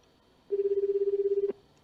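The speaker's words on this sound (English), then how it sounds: "The phone kept ringing and ringing." A single steady electronic phone ring tone from the visual novel game Chaos;Head Noah, one clear one-second burst with a rapid pulsing warble, close and alone against a quiet background.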